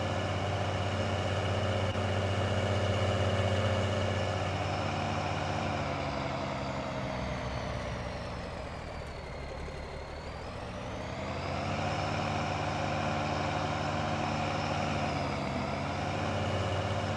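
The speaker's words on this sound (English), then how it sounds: "we'll just get the truck parked up here a moment." A truck engine idles steadily in Farming Simulator 19 as it is parked, a continuous loud low drone with a slight dip in pitch and level midway, with no talk.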